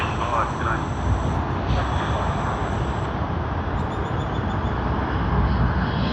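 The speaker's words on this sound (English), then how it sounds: "there you see two A380s of Qantas in quick succession, both from the North American continent" A Qantas Airbus A380 at Sydney Airport makes a steady, broad engine roar with a distant, rushing quality that holds throughout.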